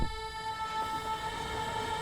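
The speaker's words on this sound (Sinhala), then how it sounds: "අර පරණ අඟුරු වලින් දුවන පාට පරණ කෝච්චියක්" An old coal-powered steam train in the Red Dead Redemption video game, a sustained whistle-like horn tone ringing over a low rumble for a couple of seconds.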